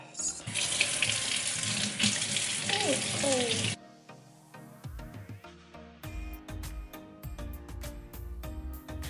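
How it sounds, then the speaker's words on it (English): Water runs from a tap into a sink during handwashing, a loud steady gush for several seconds that then cuts off, followed by quieter clinks and rustles. "So I'm gonna go wash my hands"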